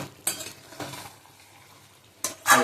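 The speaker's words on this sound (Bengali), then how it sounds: "মাংসটা কতটা কষানো হলো আর একটু নেড়েও দেবো" Chicken pieces sautéing in a pan for a chicken curry, stirred with a utensil: a few short scraping and clinking strokes over a soft sizzle, close by.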